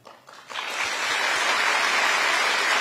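An audience of newly appointed civil service managers at a lecture breaks into applause, which swells within half a second from a few claps to a steady, dense crowd clapping that holds without voices.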